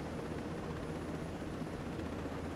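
A helicopter in the video game Ghost Recon: Breakpoint gives off a steady, unbroken rotor and engine drone that fills the whole stretch at a moderate, even level.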